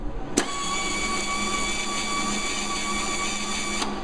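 A Hobart Handler wire feed welder runs steadily as wire feeds out of the gun, giving a constant mechanical hum with tonal whine and a sharp click at the start and another near the end, with no voices.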